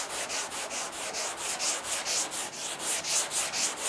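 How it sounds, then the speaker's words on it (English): Steady back-and-forth sanding of guide coat on a dented car body panel, a close, even rasping rub repeating roughly every quarter second with no pauses or talk. "it's already sanding"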